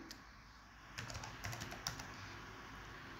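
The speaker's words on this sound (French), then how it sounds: "je vais écrire vente" Keys clatter on a computer keyboard in a quiet office, a short burst of light irregular taps in the middle over a steady faint background hiss.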